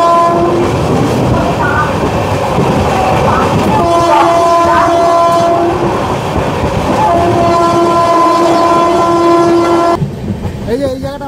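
The 13115 Sealdah–Jalpaiguri Road Humsafar Express runs on its first commercial run near Ranaghat: a loud continuous roar of rolling railcars with clickety-clack and long sustained horn blasts, heard from close by.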